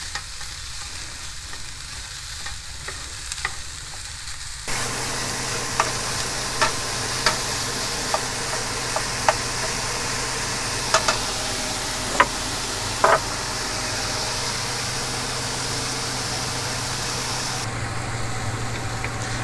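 Hamburger meat with onion and garlic frying in a pan, a steady close sizzle and crackle with occasional stirring scrapes and pops, rising in intensity after a few seconds and continuing evenly.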